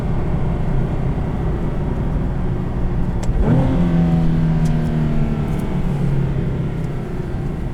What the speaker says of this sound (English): Listen to these rev match downshifts.